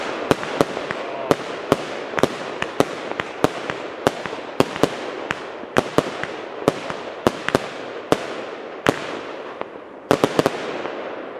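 Fireworks from the remnants of a firework launcher in a finale show: a long run of sharp, loud explosive bangs at an irregular, rapid pace, some in quick pairs, with a faint crackling wash between them and no voices.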